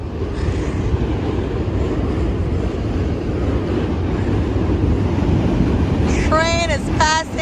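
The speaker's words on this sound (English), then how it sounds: "Train is passing, guys." A steady, loud low rumble of a train passing near Brooklyn Bridge Park in Dumbo, Brooklyn, fills the whole stretch, with a brief voice cutting in near the end.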